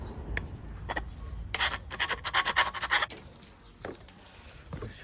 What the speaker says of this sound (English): putting the angle profile in on this corner with the file